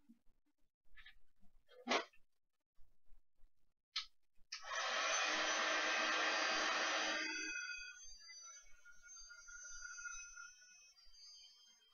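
A heat gun blasts a steady broadband rush for about three seconds over freshly painted steampunk gears, cuts off, and leaves a fainter hiss tailing away, after a few short knocks and clicks.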